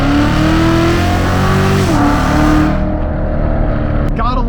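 Chevrolet C7 Corvette Z06 engine revving hard as the throttle is pressed, a loud, rising roar that climbs through the revs, drops briefly at a gear shift, then pulls again.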